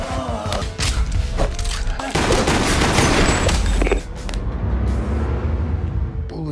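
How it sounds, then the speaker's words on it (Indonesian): Pistol emptied in a film scene, a rapid burst of loud, closely spaced shots with heavy thumps, trailing into rumbling noise afterward. "Carlton keluarin pistol, kemudian dia abisin pelurunya buat niru Kang Mad Dog biar greget,"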